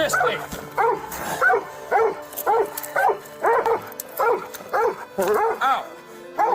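A police dog at an arrest barks and whimpers in rhythmic, loud bursts close by, about a dozen sharp yelps with people talking underneath.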